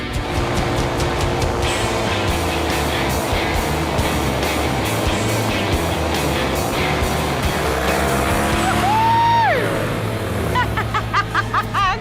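A Hoverwing hovercraft runs with a loud, steady engine and fan roar that holds throughout, rising toward the end with whistling tones, and a voice is briefly heard over it.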